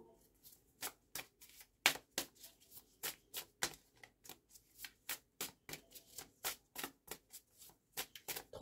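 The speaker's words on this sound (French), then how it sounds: "Je vais donc tirer trois cartes." Tarot cards are shuffled by hand in quick, crisp riffling flicks that come in an uneven, steady rhythm, close by and quiet with no talking.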